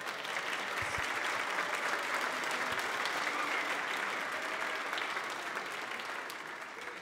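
A church audience at a year-end children's choir program applauds the directors, steady massed clapping from a fairly distant crowd that holds evenly and tapers slightly at the end.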